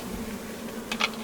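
A steady low insect hum from bees and bugs on a hot hilltop in the Warrumbungles, faint and continuous, with a couple of short closer buzzes toward the end and no talking.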